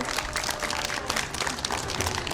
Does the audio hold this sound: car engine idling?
no